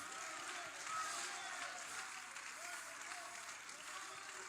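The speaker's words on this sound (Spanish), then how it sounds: "le dan palmas, dan alabanza, dicen amén" Congregation clapping in praise during a Spanish-language church sermon on healing, a steady wash of many hands held at an even level for several seconds, with voices faintly mixed in.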